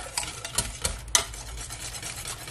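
Garlic and onion cooking in a pan over full heat, with steady low sizzling broken by a few sharp stirring clinks and scrapes of a utensil.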